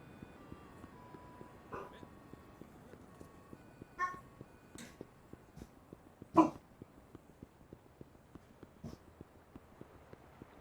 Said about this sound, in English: No need to bark at the neighbors.